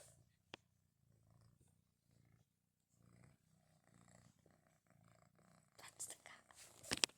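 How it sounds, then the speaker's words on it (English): Soft, low rhythmic purring from a Ragdoll cat, close and quiet, in steady pulses, with rustling and handling noises near the end. "I'm gonna try to get him to purr, and you listen"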